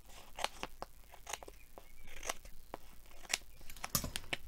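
Paper for a craft project being trimmed with scissors, giving a series of crisp close snips at an uneven pace, soft and alone with no voices.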